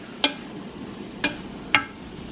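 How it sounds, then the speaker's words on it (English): Three brief, sharp scrapes of a spoon in a pan holding spinach, mushroom and bacon frittata mixture, spaced about a second apart over a faint background hiss, with no talking. "Just give it a quick stir."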